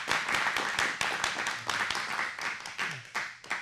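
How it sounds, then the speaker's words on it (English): A live audience at a New York music show claps in a scattered, fairly faint round, with brisk overlapping hand claps that thin out toward the end. "Give yourselves a round of applause."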